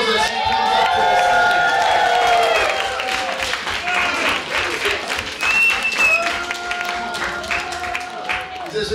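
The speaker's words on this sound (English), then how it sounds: "Give her a round of applause as she comes up to the" An audience claps and cheers at a Ding Dong Gong Show talent event, lively applause with whoops and shouted voices, loudest at first and then thinning as people keep talking over it.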